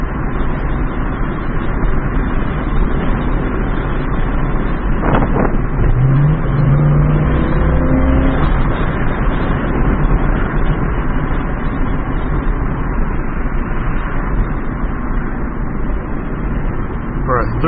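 A 1991 Corvette engine runs a little rough while driving, with a steady, loud broadband drone throughout and a brief rising tone partway through, while a person talks over it.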